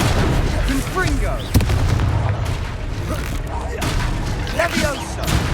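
In Hogwarts Legacy combat, a Confringo fire spell explodes in a sharp blast amid a busy, loud battle mix of rumbling booms and effects, with voices talking over it.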